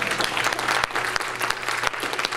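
Congregation applause at a church service, dense rapid clapping from many hands with a few sharper individual claps standing out, loud and sustained throughout.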